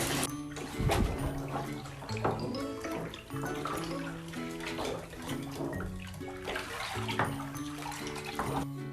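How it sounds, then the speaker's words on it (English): Clothes being sloshed and churned in a tub of water with detergent, borax and baking soda, giving irregular splashes and swishing bursts that come and go close by, with no talk. "I'm gonna throw these clothes in there and give it another mix"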